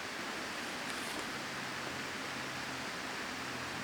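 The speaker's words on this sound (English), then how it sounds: "The sound of the creek is pretty peaceful." A creek flows in a wooded spot off a road, a steady, soft, even rush of water with no break, heard alone and fairly faint.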